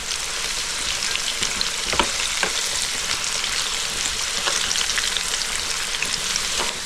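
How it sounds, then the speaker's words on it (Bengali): Potatoes frying in hot oil over a high gas flame until lightly reddened, a steady dense sizzle running throughout with a few sharper crackles and stirring scrapes, close and fairly loud. "আলুটা আমি হালকা লাল করে ভেজে নেব"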